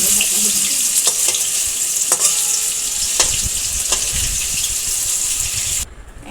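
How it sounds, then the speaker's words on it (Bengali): Banana stem pakoras fry in hot mustard oil in a wok with a loud, continuous sizzle. Occasional sharp clicks from stirring sound over it before the sizzle cuts off abruptly near the end. "আমি সর্ষে তেল গরম করতে দিয়েছি কড়াইয়ে ভাজা হয়ে গেছে"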